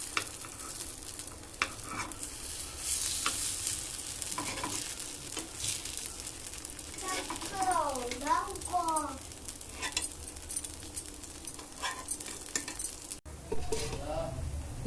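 Paniyaram fry in a pan and are turned, giving a continuous close sizzle broken by metal scraping and clinking from the utensil, with a bird chirping faintly in the background.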